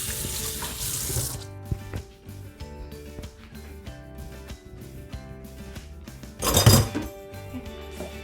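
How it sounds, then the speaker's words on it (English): Hands are washed under a running kitchen sink tap while making sheet pan pizza dough, a steady hiss of water that stops, then clinks and knocks of handling follow before a brief splashing rinse near the end. "I'm gonna wash my hands."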